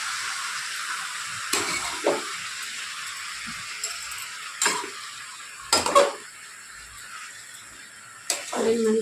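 A spoon knocks and scrapes against a pan while ash gourd and fenugreek leaf chutney with green chilli and tomato is mixed, a few distinct metallic clinks scattered over a faint sizzling hiss.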